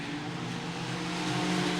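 Sigma race cars rev hard on the dirt at Archerfield Speedway, a steady droning engine roar that builds slightly, heard from a distance without talk.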